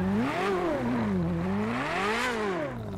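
Car exhaust in GTA 5 revving up and down in two swelling sweeps, loud and close, with a rough, throaty tone and no talk over it.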